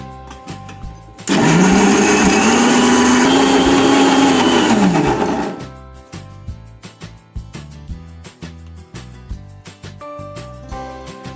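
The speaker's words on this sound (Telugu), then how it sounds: "ఈ వాటర్ని యూజ్ చేసి మనం మిక్సీ పట్టుకుందాం" A kitchen mixer grinder runs loud and steady for about four seconds, grinding soaked little millet (samalu) with water for idli batter, with a rising then falling whine before it cuts off, and background music continues alone afterward.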